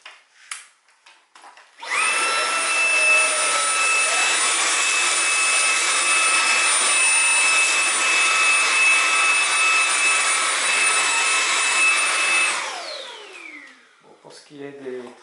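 Xiaomi Dreame V9P cordless stick vacuum cleaner switched to its third speed, a loud steady high-pitched motor whine and airflow roar that starts abruptly, holds for about ten seconds, then winds down, with brief talk around it.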